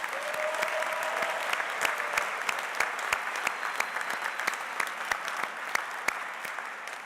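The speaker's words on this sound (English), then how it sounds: "Let's have a round of applause, graduates, for the families and friends who supported you." Graduates at a university graduate recognition ceremony applaud their families and friends, a sustained dense round of clapping from a large audience, steady and even throughout with sharper individual claps standing out.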